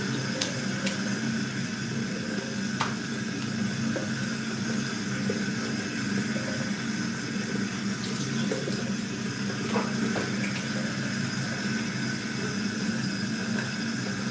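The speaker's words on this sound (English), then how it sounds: "I'm just going to rinse my face." A tap runs steadily into a sink as a face is rinsed after a shave, a continuous close rush of water with occasional small splashes.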